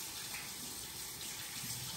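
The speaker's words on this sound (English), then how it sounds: "I'm gonna wash my hands." Faint, steady rush of tap water running in a home kitchen as hands are washed during cooking, a soft continuous gush with no voices.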